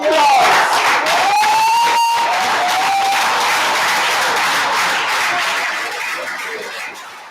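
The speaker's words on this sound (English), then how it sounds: "give a rousing round of applause" A meeting audience at a branch gathering gives a loud, sustained round of applause with scattered cheers and voices, slowly fading toward the end.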